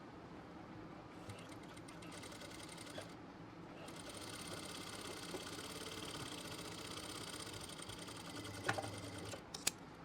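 A sewing machine stitches tilla trim onto fabric for palazzo pants at a normal, moderate pace, a quiet continuous whirring rattle that pauses briefly near the start and ends with a few small clicks.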